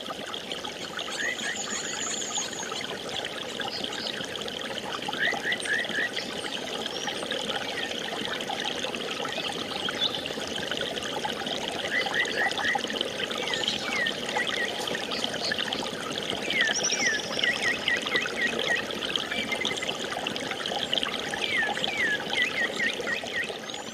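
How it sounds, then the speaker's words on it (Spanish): Flowing water from a river in La Guajira, Colombia, a steady continuous trickle and stream heard up close, with faint birdsong and insect chirps scattered over the constant wash. "Lo que acaban de escuchar es la grabación de un río que desapareció."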